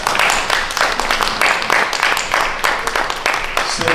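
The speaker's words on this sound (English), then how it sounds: "Please give yourselves a big round of applause." An audience applauds loudly and steadily, with a dense wash of clapping that carries on throughout, and some voices mixed in.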